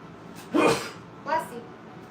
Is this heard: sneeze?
yes